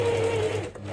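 Sewing machine runs steadily, stitching fabric toward a corner of a bow book pocket, a close continuous motor whir with rapid needle rhythm that eases off near the end.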